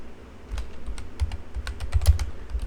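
Close, crisp keystrokes on a computer keyboard as a Linux sudo systemctl command is entered, an uneven flurry of taps with a few heavier key presses.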